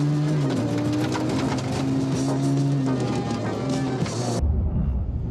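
A BMW full-size electric car on a long road trip, heard from inside as a steady broadband road and tyre rumble that holds for several seconds and then cuts away to quieter cabin hiss.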